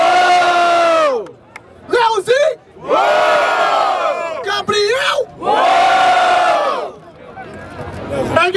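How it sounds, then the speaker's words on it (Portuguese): A crowd at a rap battle semifinal in Barueri, São Paulo, roars in repeated loud bursts of cheering and shouting, each swelling and dropping away, with an MC's amplified voice between them. "Barulho pro Léo, sim! Barulho pro Gabriel!"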